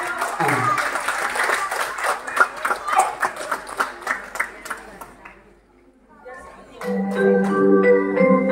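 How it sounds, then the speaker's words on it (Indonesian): An audience applauds the children at an RA At Taqwa graduation day at Ninos Batam Edutainment Park, with brisk, sustained clapping and some cheering that fades to near quiet before music starts. "Mohon tepuk tangannya yang meriah dulu untuk anak-anak kita."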